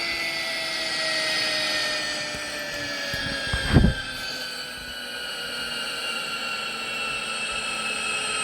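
A jet airliner, apparently a DC-10, cruises in Roblox Cabin Crew Simulator with a steady, droning engine hum throughout and a brief louder burst midway.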